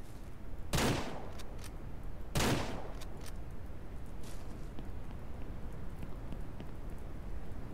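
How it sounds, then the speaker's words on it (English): Gunshots in the video game Ranch Simulator during a hunting quest: two sharp, loud cracks a couple of seconds apart, followed by faint scattered ticks against a steady background hiss. "Oh, jeez, I'm shooting the fence."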